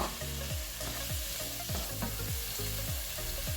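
Sweet corn and mixed vegetables sizzle in a pan for couscous, with a spatula stirring in regular scraping strokes against the pan, close and quiet.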